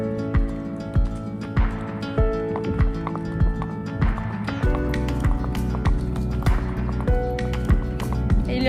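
On a morning horse ride in Tunisia, hooves clip-clop close by in a steady, even walking rhythm that continues the whole way through over a soft, constant background hum.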